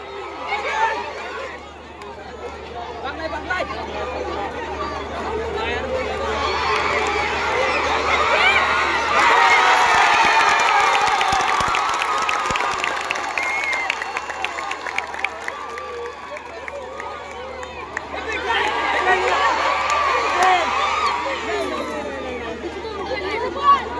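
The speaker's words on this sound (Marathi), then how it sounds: "टाळ्या वाजवून प्रोत्साहित करा" Spectators at a kabaddi match, an under-18 final, cheer and shout in a large crowd, swelling to a loud peak midway and rising again near the end, with chatter and voices throughout.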